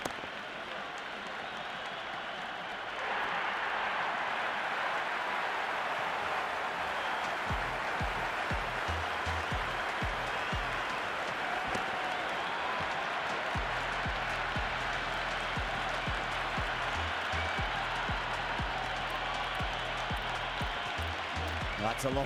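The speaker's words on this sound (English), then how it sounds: "It's the most enthusiastic crowd you could ever see right now." Steady roar of a cheering stadium crowd in the Cricket 26 video game during a Pakistan vs Zimbabwe T20 match, a continuous dense wash of noise throughout, with low thumping patterns rising underneath partway through.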